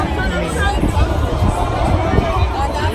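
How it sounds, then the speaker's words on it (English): Dense crowd hubbub at a World Pride street celebration, a loud continuous babble of many voices close around with no single voice standing out. "we in this crowd of freaking people"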